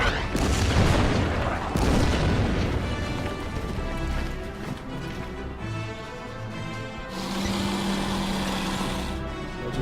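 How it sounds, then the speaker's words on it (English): Artillery fire in the strategy game Order of Battle, set on the Burma Road near Imphal in 1944, rolls as a dense series of booming blasts and rumbling explosions, loud and continuous throughout with no talking. "Now the artillery in the center is going to harass my Indian units once again."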